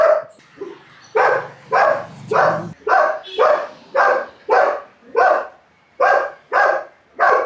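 Kombai dog lying at a gate in Kerala barks repeatedly and loudly at close range, about a dozen sharp, evenly spaced barks with a brief low whine early on.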